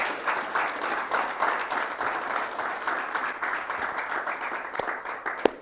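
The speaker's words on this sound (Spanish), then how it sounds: "démosle un aplauso a Dios porque nos sacó de las tinieblas." A church congregation at a service applauds steadily at moderate volume, with a few sharper claps standing out near the end.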